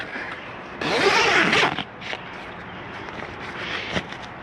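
A zipper is pulled on the bed tent of a Flagstaff 228 camper: one quick, loud rasping zip lasting under a second, followed by faint handling rustles and a light tap.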